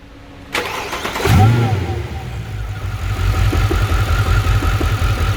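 A 2012 Mercedes C63 with 193k km fires up after a supercharger installation: a starter crank, then the engine catches and settles into a loud, steady idle, heard close up.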